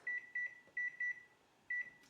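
An oven timer beeps while brownies bake: five short, even electronic beeps in a quick irregular series, bright and clear against a quiet kitchen.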